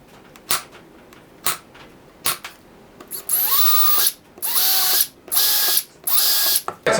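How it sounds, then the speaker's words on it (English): A handheld drill fitted with a 5/32 inch bit bores holes through scrap wood for a circle-cutting jig. A few sharp clicks come first, then several loud, whining bursts of drilling, close up, each stopping abruptly. "I'm going to use the same bit of scrap to drill these holes out so I don't have any tear out."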